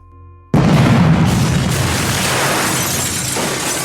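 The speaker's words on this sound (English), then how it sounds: "when I heard the explosion." A sudden loud explosion bursts in after a brief quiet moment, followed by a sustained roaring rumble and debris noise that slowly fades.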